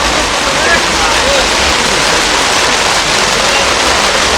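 Heavy rain pours down at the Porbandar fair, a dense, loud, unbroken roar of water with faint voices barely rising through it.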